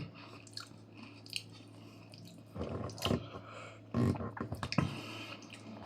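Close, wet chewing of rice with dal and fried eggplant, with soft mouth smacks and squishy bites that grow louder in bursts toward the end, over a low steady background hum.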